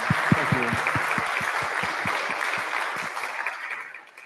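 An audience claps after a talk on polarization in the United States, a dense burst of applause that starts strong and gradually thins and fades toward the end.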